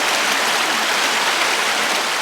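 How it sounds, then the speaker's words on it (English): Creek water pours through a log jam in the woods at Lake Padden, a loud, unbroken rushing hiss heard close by with no voices. "I kind of like these parts where the log jam begins and the water finds a way to get through here like this."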